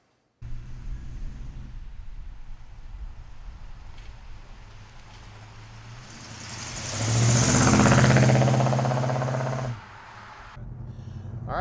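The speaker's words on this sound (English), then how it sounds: "Exhaust sounds awesome." A 1969 Pontiac GTO, black with a black interior, idles with a steady low exhaust burble, then revs up into a louder, sustained roar for a few seconds before dropping back to idle.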